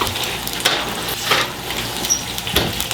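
Eggs frying in a pan on full heat, a loud close sizzle with periodic sharper crackling bursts, no talking.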